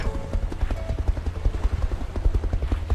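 A cartoon helicopter hovers while lifting a block, its rotor giving a rapid, steady low thumping pulse with faint tonal whine, fairly quiet and continuous.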